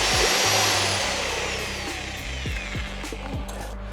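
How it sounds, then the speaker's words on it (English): A power drill whirs loudly with a mixing paddle churning through thick grout mix for porcelain paving at a mixing station, the motor pitch sliding down as it slows, then knocking as it stops. "we mix it with the drill and paddle on the mixing station"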